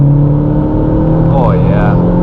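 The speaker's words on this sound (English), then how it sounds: "Give a quick little pull here. Do a third gear." A 2011 MazdaSpeed3 engine pulls hard in third gear from inside the cabin, a loud steady drone whose pitch rises across the clip.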